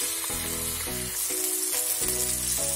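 Chopped tomatoes go into a pan of softened, sautéing onions and sizzle steadily, a close continuous frying hiss with faint tonal music underneath and no talking.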